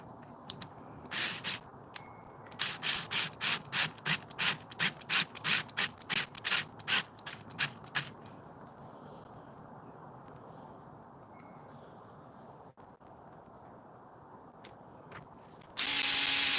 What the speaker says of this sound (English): Now we can put these screws in.